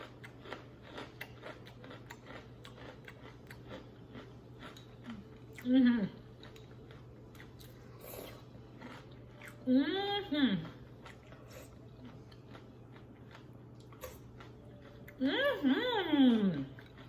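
Catalina Crunch cinnamon toast low-carb cereal crunched in the mouth, a steady run of close, faint ticking bites and chews, broken by three brief vocal sounds.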